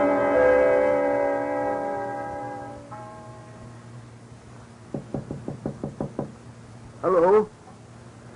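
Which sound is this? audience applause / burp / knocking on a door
knocking on a door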